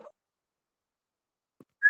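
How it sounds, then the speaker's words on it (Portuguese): A person whistles a short, clear rising note at the very end, preceded by near silence with only a faint murmur at the start. "Alguém assobiou."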